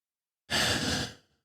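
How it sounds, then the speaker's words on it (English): A single big deep breath drawn in close to the mic, a breathy rush that swells quickly, holds, and fades away after a brief silence, with no other sound. "take a nice big deep breath"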